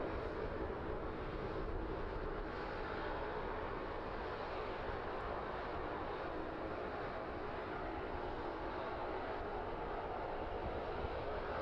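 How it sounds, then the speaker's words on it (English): A West Atlantic aircraft on the runway at East Midlands Airport gives off a faint, distant, continuous jet engine rumble and roar with no voices over it. "We don't usually see the West Atlantic this far down the runway."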